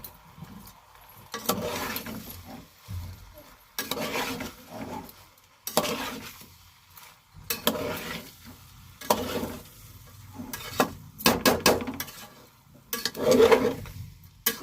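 Chicken and onions are stirred in a hot cooking pot, a spoon scraping and rattling against the metal in repeated bursts over a soft sizzle of frying.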